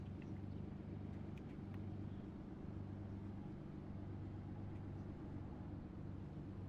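Steady low engine drone of a slow tractor-like car circulating in Assetto Corsa at Imola, a constant rumble with no pauses and no talk, faint and somewhat distant.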